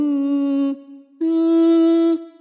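A single voice sings a third harmony part on two sustained notes without words, a short held tone, a brief dip, then a longer steady note. A close, clear harmony line.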